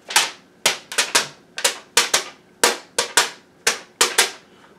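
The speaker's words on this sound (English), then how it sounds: "Sometimes it's just a single sheet of paper." A sheet of paper is snapped taut again and again, giving a dozen crisp, loud cracks in quick irregular bursts close by.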